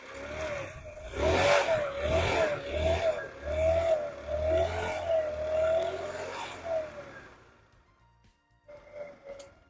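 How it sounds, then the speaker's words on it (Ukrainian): A four-stroke scooter engine idles with a knocking fault. It gives a steady, wavering hum with a rhythmic thumping underneath, then cuts out to near silence before a brief restart or rev at the end. The sound is moderately close and heard alone. "Проблема в нас в тому, що він заводиться, щось тарабанить в моторі"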